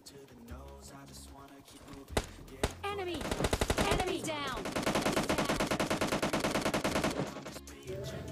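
Sustained automatic gunfire spray in PUBG Mobile Lite, rapid dense bursts building into a continuous loud volley over game sounds, with a voice talking underneath.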